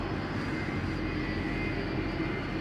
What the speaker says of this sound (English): Oh, listen to those RBs, man. Sounds like a 747.